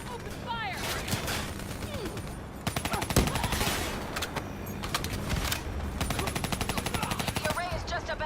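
Rapid automatic gunfire from Call of Duty: Black Ops III rattles in dense repeated bursts, loud and close, with shouted voices and a game soundtrack underneath.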